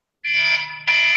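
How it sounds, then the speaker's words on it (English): An electronic alarm beeps loudly and steadily in a room, a bright tonal buzz with a low hum beneath, pausing briefly before sounding again, with no talking. "It sounds like an alarm."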